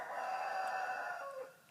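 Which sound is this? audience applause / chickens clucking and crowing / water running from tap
chickens clucking and crowing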